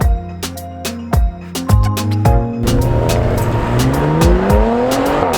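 An Audi RS 5 Sportback with a 2.9-litre twin-turbo V6 petrol engine revs hard through a series of sharp blips, then climbs in a loud sustained acceleration with rising engine tone and crisp pops and crackles.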